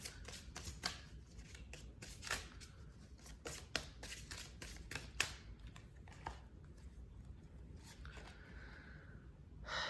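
Oracle cards from an Angelic Revelations deck are shuffled by hand, a continuous run of soft rapid riffling and flicking bursts, close and quiet, with no voices.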